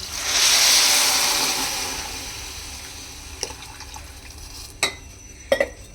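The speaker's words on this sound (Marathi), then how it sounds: "याच्यामध्ये मी एक तांब्याभर पाणी टाकत आहे" A tumbler of water poured into a pulav rice and vegetable mixture in a pressure cooker, a loud splashing gush that fades over a few seconds, followed by a few sharp knocks and clinks.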